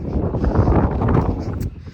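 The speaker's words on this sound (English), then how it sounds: "It's a little windy if y'all can hear me" Steady low rumbling wind buffeting the microphone, loud and continuous throughout.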